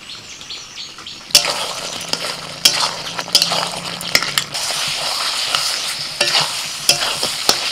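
Mutton being stirred as it fries in a pan, with a continuous sizzle and repeated sharp scrapes and clinks of a spoon against the metal, no voices.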